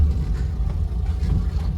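A Maruti 800 car pulls away in gear, its engine giving a low, steady rumble that persists close by throughout the short stretch.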